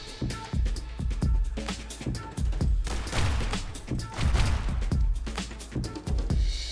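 Gunfire from The Hong Kong Massacre crackles in fast, repeated shots with heavy low booms, a loud, relentless barrage of rapid bursts and thuds with game music underneath.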